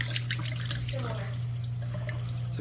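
Water running and splashing out of a GE dishwasher drain line after a faulty drain pump was replaced, a steady trickle over a constant low hum, with a voice heard briefly.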